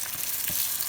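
Beaten eggs for a Greek omelette hit a hot pan and sizzle, a brief, close, bright frying hiss with no voices.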